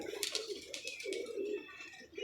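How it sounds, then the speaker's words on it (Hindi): A golden pigeon gives a few soft, low coos close by, with brief rustling and faint clicks in between. "लो जी, ये गोल्डन कबूतर"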